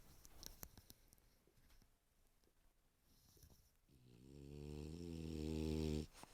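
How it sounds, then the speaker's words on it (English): A French bulldog named Bruno snores in a long, loud, rumbling breath that swells and builds toward the end, after softer scratchy rustling and faint movement noises. "Bruno loves to snore, that dog."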